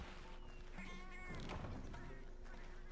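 Cats meow in the Monster Hunter video game, several short mewing calls over a constant game soundtrack and effects, moderately loud and close.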